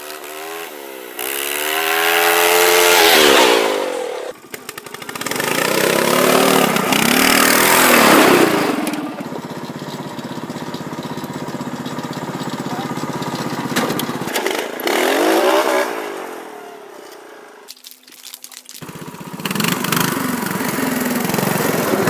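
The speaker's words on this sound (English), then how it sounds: "Was that a lawnmower?" Small lawn mower engine revving hard and straining up a hill, loud and close with rising and falling pitch, dropping out briefly twice, with excited shouting over it.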